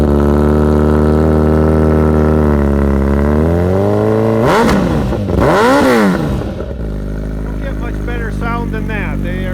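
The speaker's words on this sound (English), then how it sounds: "I'm going to fire one of these up" A 2022 Suzuki Hayabusa motorcycle engine with performance upgrades cranks and catches, then revs up hard twice with loud sweeping roars before settling into a rough, lumpy idle.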